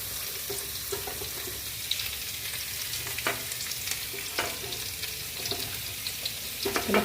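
Bitter gourd and potato frying in a pan, a steady close sizzle with scattered stirring scrapes and light clinks throughout, no voices.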